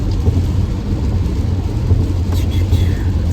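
Steady heavy rain drums on a moving car, a continuous dense hiss and rumble filling the whole stretch, loud and close, with no talk.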